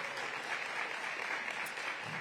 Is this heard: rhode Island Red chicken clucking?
no